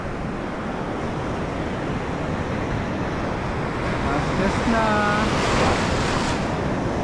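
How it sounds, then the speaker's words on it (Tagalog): Big sea waves wash continuously onto a Philippine fishing shore with wind buffeting the microphone, a steady broad rush that swells slightly midway, with a brief voice speaking over it. "Malaki na ng alon."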